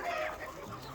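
Roosters of roughly equal age clucking close by on a home poultry setup, a short burst of throaty clucks that fades off within a second, heard on their own.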